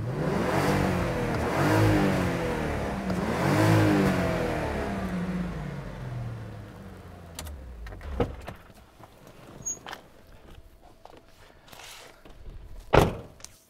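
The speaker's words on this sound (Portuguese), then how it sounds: "Esse aqui é o famoso Golf GTI VR6" A VW Golf GTI VR6 engine revs twice in strong rising-and-falling bursts up close, then settles to a low idle with scattered clicks and a sharp thunk near the end.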